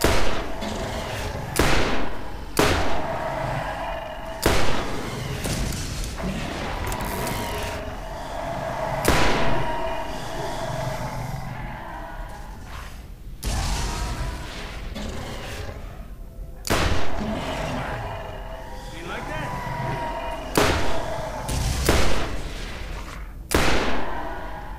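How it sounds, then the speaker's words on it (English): Gunfire in the video game Borderlands, repeated sharp shots in irregular bursts over a steady, dense background of game noise, loud and close, with no talking. "Just shooting."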